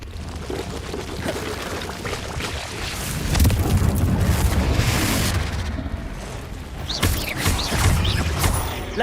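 Fiery blast from the Confringo spell in Hogwarts Legacy, cast inside a cave, swelling into a loud rumbling burst around the middle and flaring again near the end over continuous crackling game noise.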